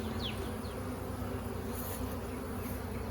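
A honeybee swarm hums steadily inside a flowerpot swarm trap where the bees have drawn comb, the dense buzzing close and constant, with a few individual bees zipping past nearby.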